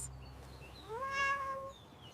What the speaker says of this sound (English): She is a happy cat.